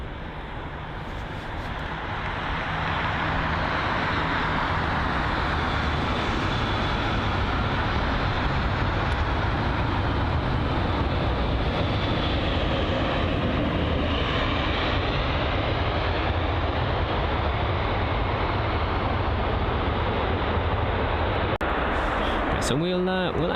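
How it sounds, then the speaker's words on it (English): An American Airlines Boeing 777-300 arriving at London Heathrow from Dallas, its engines making a steady, loud, broad roar that holds for the whole stretch, with a faint voice underneath. "So this is going to be the American Airlines Boeing 777-300 from Dallas"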